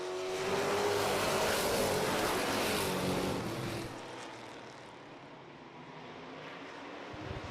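Several race cars roar out of the corners during a short-track heat race, a loud sustained engine wash that eases a little and fades somewhat into the distance partway through.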